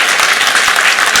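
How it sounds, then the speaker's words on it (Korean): A church congregation at a Sunday service claps to encourage a young missionary, a brief, loud and dense burst of applause heard up close. "우리 박수로 한번 격려해 줍시다."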